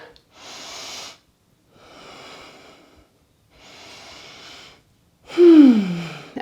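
Deep breathing while holding a hatha yoga pose: four slow, close breaths separated by short silences, the last one louder with an audible voiced sigh.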